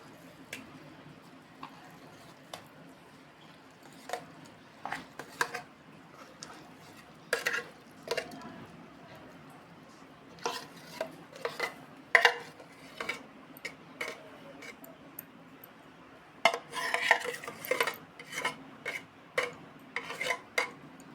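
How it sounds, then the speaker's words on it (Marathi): Milk cream is scooped out of a steel container into a large pot for making ghee, giving scattered light metallic ticks and scrapes at close range, with quiet pauses between them. "आता एका मोठ्या पातेल्यामध्ये ही सगळी साई आपण काढून घेणार आहोत"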